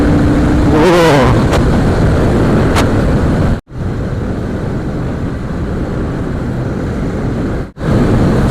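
A Royal Enfield Shotgun 650 roars steadily at around 100 km/h, with wind rushing past and two brief dropouts where the sound cuts out.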